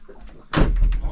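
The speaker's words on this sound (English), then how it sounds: "close the door." A door on a boat at a boat show swings shut with a single solid thud and short rattle, close and fairly loud, following faint background chatter.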